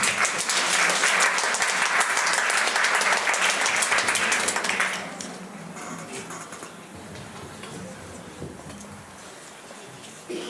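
A seminar audience claps for panel speakers from several schools, loud and dense for about five seconds before fading to a scattered patter of a few remaining hands.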